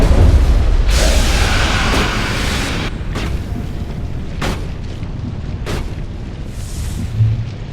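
Gunfire and explosions from the video game Mass Effect land as a run of deep booms and sharp bursts spread over several seconds, loud and dense over a rumbling background.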